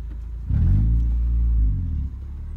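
A Honda Civic running with its last muffler removed gives a deep, loud exhaust rumble that swells after a brief pause, holds steady, then eases off as the car moves.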